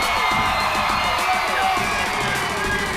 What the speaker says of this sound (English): They're getting everybody cranked up in here. Spirited crowd, that's for sure.